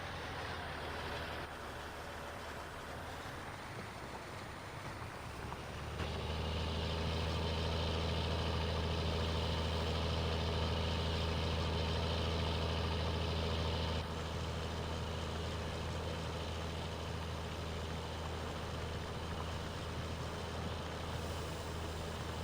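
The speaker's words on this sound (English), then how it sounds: "So I'm inside the tractor action right now." A tractor engine idles in Farming Simulator 19, starting softer then rising to a steady, loud low drone that holds evenly and eases slightly toward the end, alone without voices.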